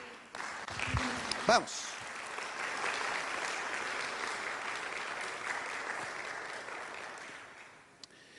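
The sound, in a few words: church congregation applauding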